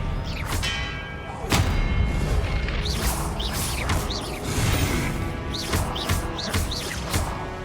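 Repeated spell impacts in Hogwarts Legacy combat, the Expelliarmus disarming charm among them: a steady series of sharp magical blasts, thuds and ringing chimes at close range, with no talking.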